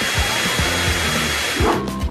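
A hair dryer blows steadily and loudly while being used on an ice-cream-covered doll, a continuous broadband rush with faint thumping underneath, cutting off near the end.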